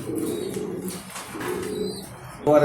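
A racing pigeon, a foreign-bred bird in a Dhaka loft, coos in soft, low, repeated rolling phrases close by, with faint background chirps and a brief louder burst of noise at the very end.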